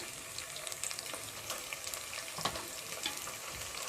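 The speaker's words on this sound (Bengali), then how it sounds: "এখন তেলের ভিতরে কাঁচা মশলাটা আমি খুব ভালোভাবে এটা ভেজে নেব" Raw spice paste of ground cumin, garlic and ginger frying in hot oil for plain pulao, a steady close sizzle and crackle with occasional stirring scrapes throughout.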